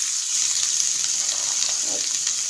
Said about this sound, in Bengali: তেল গরম হয়ে গেছে, এবার দেবো গাজর